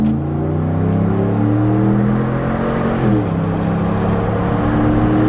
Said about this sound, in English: All right, going on the highway. Let's give it a little gas.